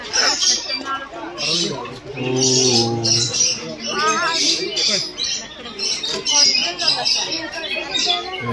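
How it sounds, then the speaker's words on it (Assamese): A great hornbill at a zoo gives loud, harsh squawking calls in repeated bursts, heard close and mixed with people talking throughout. "এইয়া কাউ ধনেশ এইটো চৰাইৰ নাম"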